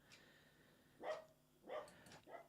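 Three dogs bark in separate bursts, a little distant and fairly quiet, with short pauses between.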